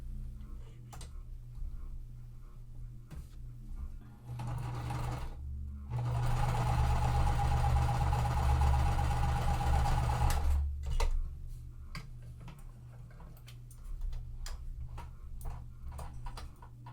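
A sewing machine runs close by as quilt pieces are stitched together, with a continuous mechanical whir lasting several seconds and scattered ticks and clicks before and after.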